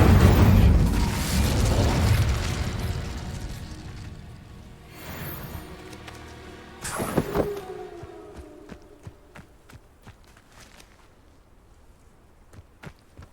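An Incendio spell is cast in the video game Hogwarts Legacy: a loud fiery whoosh and rumble that swells and fades, then a sharp burst followed by crackling and scattered pops that die away.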